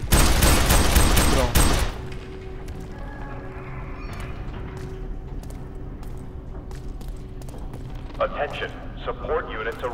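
A dense burst of rapid gunfire from the video game F.E.A.R. 3 opens, followed by scattered clicks and quieter game sounds, with a voice talking near the end.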